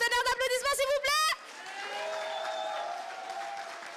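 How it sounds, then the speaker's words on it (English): A stage audience at an idol solo dance contest at a Japan-themed convention bursts into sustained applause and clapping, loud and full after a short burst of pop music at the start. "Un tonnerre d'applaudissements s'il vous plaît."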